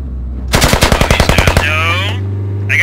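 Machine gun in the video game Squad firing a rapid burst of about a dozen sharp, evenly spaced shots, loud and close over a low engine hum, followed by a short whooshing tail.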